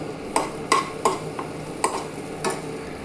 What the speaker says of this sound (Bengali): গ্যাসটা কমিয়ে এটাকে ভেজে যাচ্ছি